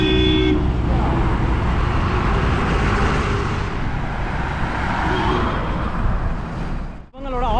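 Oncoming bus on a road during a Coimbatore to Chennai bus journey, heard as a loud, steady roar of engine and traffic with a brief horn toot near the start.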